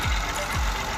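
A Massey 240 tractor engine running while the tractor sits stuck in a ditch, a steady low rumble with a faint rhythmic knock, close and continuous.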